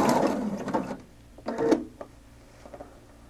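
A sewing machine stitches a zigzag bar tack at maximum width with variegated thread, short bursts of rapid mechanical clatter separated by pauses, close and alone with no talk.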